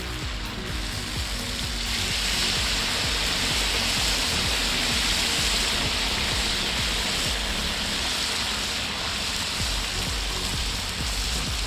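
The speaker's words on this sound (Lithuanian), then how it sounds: "Dabar supilsim arbatinį." A kettle pours water into a pot of plov with sizzling rice and meat. The loud, steady rushing of water and hiss lasts the whole stretch.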